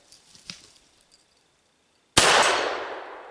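A .357 Magnum pistol fires at a metal target, one sharp loud crack followed by a long ringing decay, preceded by a few faint clicks and a brief knock.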